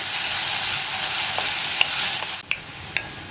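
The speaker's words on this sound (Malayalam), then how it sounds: "ഒരു 5 മിനിറ്റ് ഈ ഉരുളക്കിഴങ്ങ് ഒന്ന് ഈ വെളിച്ചെണ്ണയിൽ നന്നായിട്ടൊന്ന് വഴറ്റിയെടുക്കണം" Potatoes stir-fried in coconut oil give off a steady, close hiss of sizzling, broken now and then by sharp clicks of a spatula against the pan.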